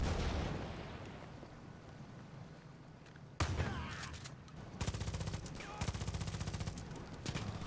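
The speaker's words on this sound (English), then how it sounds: "At what point do I just go mental and start lobbing the grenades?" Far Cry 5 combat erupts into loud gunfire bursts and a sharp blast, with rapid automatic fire rattling in dense clusters after a quieter stretch, close and harsh.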